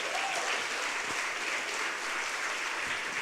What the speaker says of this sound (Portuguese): Salmo 50, aplauda o Senhor, pode aplaudir.